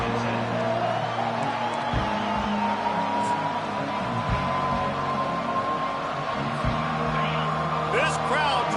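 A football stadium crowd roaring and cheering in the distance as a steady wash of noise, with whoops rising above it and a commentator talking over the top throughout.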